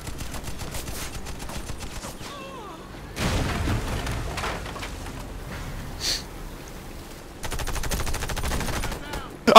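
Automatic weapon fire in the co-op shooter Warface, rapid bursts of rattling shots in several volleys with short gaps between, close and loud, with faint voices in the background.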